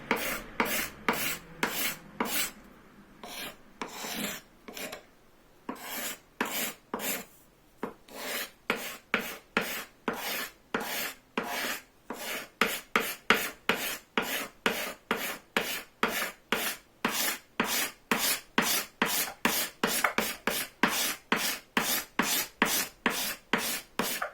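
Hand scraper shaping a difficult-grained wooden bow-saw part, steady rhythmic rasping strokes close up, slow and irregular at first, then a fast even series of repeated scrapes, with no talking.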